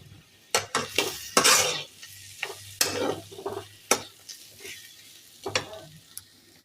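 Potato cauliflower curry is stirred and fried in a pan, with loud irregular clanks and scrapes of a utensil against metal over a low sizzle, close and without talk.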